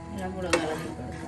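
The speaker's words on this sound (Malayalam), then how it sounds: "എല്ലാം കൂടെ ഒന്ന് ഇളക്കി കൊടുക്കാം." A brief, quiet stir of jeerakashala rice and water in a biryani pot, a soft scrape and slosh with one louder knock of the spoon midway.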